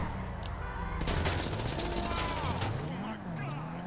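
Gunfire in the video game GTA 5 Online, a sudden burst of rapid shots that starts after the first second and continues for a couple of seconds, with a voice speaking around the shooting.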